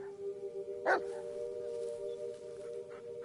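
A dog in the video game Blair Witch gives one short bark over a constant humming tone and low ambient game background, fairly distant and subdued.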